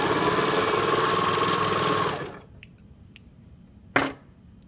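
Serger overlocker stitching a t-shirt neckband closed, a rapid, even mechanical whir up close that stops after about two seconds, followed by a couple of small clicks and a brief snip.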